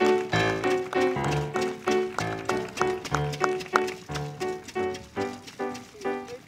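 Steady clip-clop of horse hooves at a brisk, even trot, fairly close and prominent throughout, with no voices.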